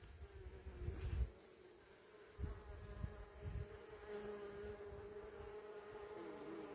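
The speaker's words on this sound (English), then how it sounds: "If you can see the bees on the ornamental onions, wow, they are here in their abundance." Bees buzz steadily among ornamental onion flowers in a garden, a continuous low insect drone with several louder passes close by and no talk.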